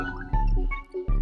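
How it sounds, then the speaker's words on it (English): Hyperpop track run through a movement filter that gives it a muffled, underwater wash, with short choppy bursts and thick low end, loud and close without talking. "the movement filter is going to add this kind of underwater type of noise"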